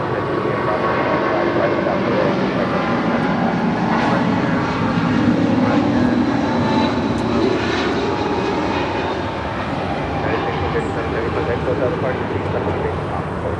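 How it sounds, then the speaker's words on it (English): A heavy jet airliner takes off at Los Angeles International Airport with a loud, sustained engine roar that holds steady through the whole stretch and eases off slightly toward the end. "take a listen to the sound of this takeoff"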